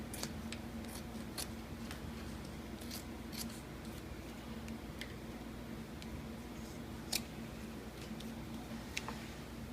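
Scissors trim fabric on a Ford Model T touring top, giving a string of sharp, quiet snips at an uneven pace over a low steady hum, close by with no talking.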